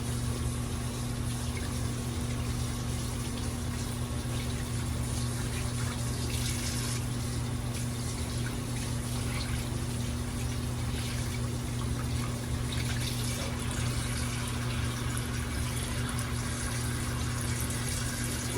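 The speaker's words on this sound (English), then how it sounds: "we finna rinse them all off" Tap water runs steadily and loudly for almost twenty seconds as tie-dyed Nike socks are rinsed, a continuous close splashing gush with no pauses.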